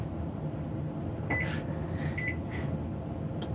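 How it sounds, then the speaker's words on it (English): A microwave oven hums steadily at close range through the whole stretch, with a few faint electronic chirps and beeps over its running drone. "Now it says it's got to go to the microwave."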